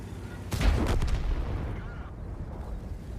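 Artillery fire in a video game lands as a loud, close blast followed by a long rumbling decay and rolling echoes.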